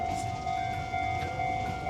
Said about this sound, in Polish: i przejeżdża taki fajny pociąg